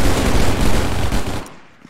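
A dense burst of automatic gunfire in the Contractors shooter, rapid loud shots packed close together for about a second and a half before abruptly stopping, leaving near silence.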